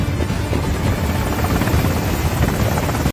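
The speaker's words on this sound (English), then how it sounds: "Langston rushes to a helicopter with Carla and David already inside." Helicopter in an action film scene, a loud, continuous rotor roar with rapid thudding blade chop and engine whine, steady throughout and cutting off abruptly at the end.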